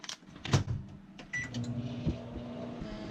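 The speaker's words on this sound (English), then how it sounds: "I'm gonna pop this in the microwave for like 30 seconds" A microwave oven's door clunks and keypad beeps, then a low steady hum begins and continues quietly.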